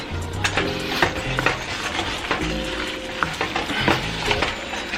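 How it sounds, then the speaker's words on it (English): Shrimp, lobster and garlic fry in a pan with a busy, crackling sizzle, broken up by repeated clattering stirs and scrapes of a utensil against the pan, close and continuous, with no voices. "Now I'm gonna add the shrimp and the lobster"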